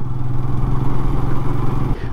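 A motorcycle climbs the road up Tiger Hill, its engine droning steadily and close with a loud, even hum and some clattering over about two seconds, easing just at the end.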